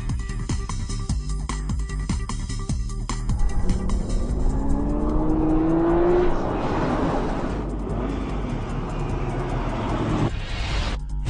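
A 2009 Nissan GTR and a 2006 Ford GT race through track turns, engines droning steadily with a rising whine through the corner and continuous loud road and wind roar.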